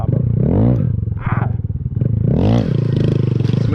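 Honda Grom motorcycle engine revving up hard twice for wheelie pop-ups, loud and close, with rising and falling pitch sweeps between lower idle, plus some scraping clatter.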